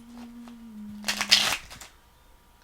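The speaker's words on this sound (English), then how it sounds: "when I shuffle and cards don't come together or cards come together" Tarot cards being shuffled by hand in two quick riffling bursts over about half a second, close and fairly quiet, after a low steady hum.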